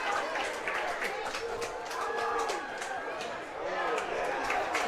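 Baseball crowd along the right field line on its feet late in a night game, a steady wash of cheering, clapping and chatter that holds at a constant level throughout.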